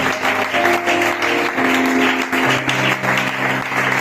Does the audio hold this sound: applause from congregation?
yes